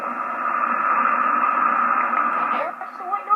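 Steady radio static hiss in the video game Bunker 51, a loud band of crackling white noise running nearly continuously, briefly dipping and wavering near the end.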